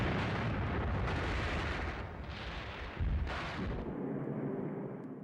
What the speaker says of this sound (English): The warning came as a German artillery bombardment covered the Allied lines.